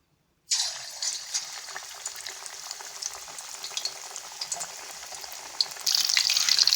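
Marinated besan-coated fish pakora drops into hot oil in a kadai and starts a sudden, steady bubbling fry that stays close and even, growing a bit louder and brighter near the end.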